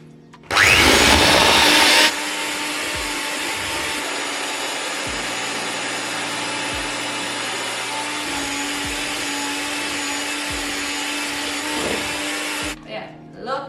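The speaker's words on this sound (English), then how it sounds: "take your electric mixer and just go to town on it until the mixture is nice and smooth" An electric hand mixer whirs steadily in a bowl of cake batter, starting with a loud burst and then settling into a continuous high buzzing drone that cuts off near the end, with occasional scraping knocks.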